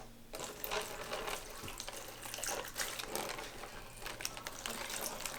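Water runs steadily into a bowl during kitchen cleanup after baking brownies, a continuous splashing, trickling stream with occasional clinks and knocks close by.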